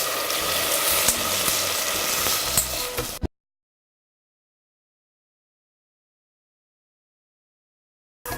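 Water is poured into a hot frying pan for minestrone soup, giving a loud, steady sizzle for about three seconds before it cuts abruptly to silence.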